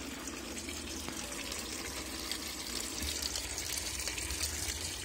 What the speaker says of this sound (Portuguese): Abortou a centrifugação e voltou pro enxágue.